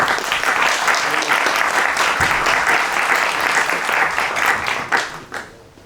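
An audience at a national professional conference applauds loudly and continuously, a thick crowd of clapping hands that holds strong before tapering off and fading in the final second.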